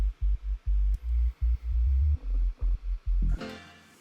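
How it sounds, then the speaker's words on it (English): A deep sub bass for a tropical house track thumps through a quick rhythmic pattern of short, heavy low notes, loud and alone, before a brief noisy fade at the end. "Finally, just a sub bass."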